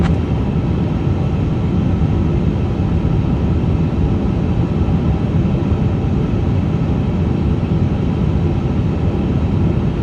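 Airliner taxiing at Singapore airport in Microsoft Flight Simulator 2024, a steady close engine rumble and whine that holds even and unbroken throughout with no voices.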